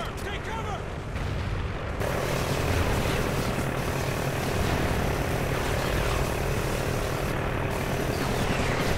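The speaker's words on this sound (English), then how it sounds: "Shit, helicopter." A helicopter's rotor chop and engine roar fill a Call of Duty: Ghosts beach battle, holding steady and loud throughout with dense combat noise underneath.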